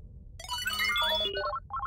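A bright electronic message notification tone on a phone in a German children's soccer cartoon: a quick chiming melodic jingle lasting about a second, followed by a short repeated blip over a low background rumble.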